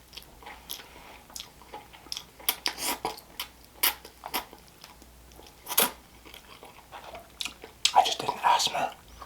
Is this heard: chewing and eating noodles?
yes